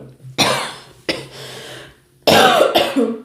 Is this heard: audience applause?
no